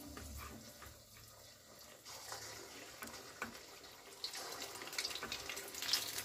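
Sabudana rolls dropped one at a time into hot fasting-day oil in a kadhai give a steady bubbling hiss that builds gradually, with small pops and spatters growing stronger toward the end.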